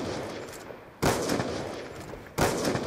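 Gunshots in a first-person shooter during a search-and-destroy round, two loud, sharp, booming shots about a second and a half apart, each ringing out over a steady noisy background, with no talking.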